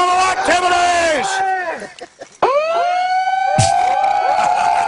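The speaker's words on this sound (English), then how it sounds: "I love the multi-sirens." Several sirens wail at once in overlapping rising and falling sweeps, loud and close, briefly dropping out before surging back with voices underneath.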